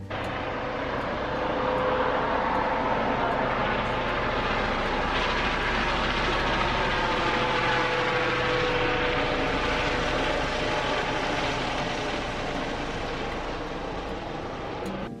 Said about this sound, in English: it's like the helicopter's literally taking off from the roof and going right across where your Airbnb is